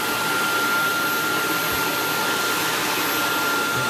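A Dyson DC22 Motorhead vacuum cleaner with its power head running on carpet, giving a steady, loud, unbroken motor whine and airflow roar with a faint high tone, close by and with no voices.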